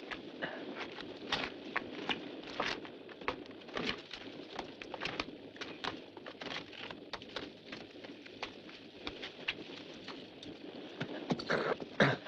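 Horse hooves clip-clop in a steady, fairly quick rhythm, faint and distant, in a scene from a period action film with no talk over them.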